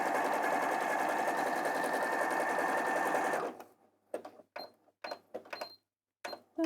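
Sewing machine stitching a satin appliqué on a bag kit: a steady, dense mechanical whirr runs continuously for about three and a half seconds, then cuts out into short separate bursts and pauses as the stitching slows.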